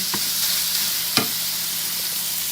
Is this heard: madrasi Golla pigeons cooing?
no